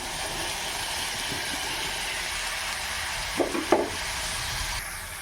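Diced raw papaya is stirred into a masala curry with turmeric and curry leaves in a pan. A steady background hiss runs throughout, and a couple of brief scraping stir strokes come near the end.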